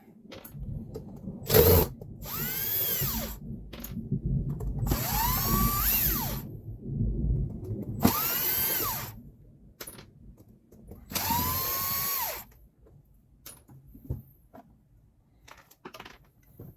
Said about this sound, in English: Now we're going to remove these 5 screws, and that should get us to the inside.